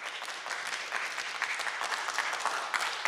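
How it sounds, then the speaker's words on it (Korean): Steady audience applause fills a Korean radio quiz show's student talent stage, dense and even from start to finish with no talk over it. "박수 한번 주시죠."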